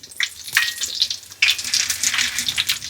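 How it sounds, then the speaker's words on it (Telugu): Flattened rice deep frying in hot oil for a corn mixture snack makes a bright, close, bubbling hiss in bursts, with two sharp surges as more goes in and no talking. "అటుకులు వేసుకుందాం అన్నీ మనం మంచి ఇందులో ఏం లేదండి డీప్ ఫ్రై చేసుకోవడమే ఇగో చూడండి"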